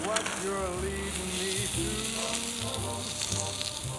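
Dense crackling and fizzing from a bubbling massage foam, like tiny bubbles popping continuously, close and steady for a few seconds with no talking.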